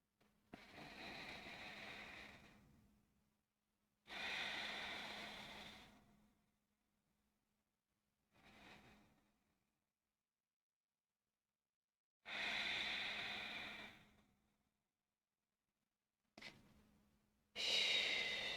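Slow, deep breaths during a yoga practice, each long exhale a close, breathy rush followed by a quiet pause, repeated several times at an unhurried pace.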